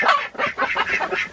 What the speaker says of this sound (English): What do you think of the chickens?